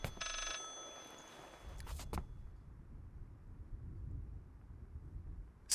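Telephone ringing in the horror game Layers of Fear: a short bright ring burst at the start, a sharp click near two seconds, then a faint low rumbling ambience, quiet overall with no talking.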